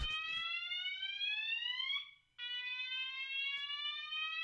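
Electronic fire alarm sounding with a loud, steady high-pitched tone that cuts out briefly and resumes, repeating indoors with no talk over it.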